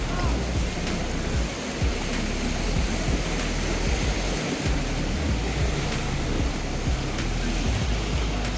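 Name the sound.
rain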